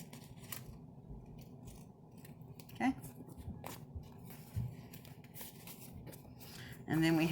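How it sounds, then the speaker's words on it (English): Scissors snip through paper in a crafting session, with a few short distinct cuts and rustling close by, someone talking over most of it. "And then I'm just going to cut the paper away."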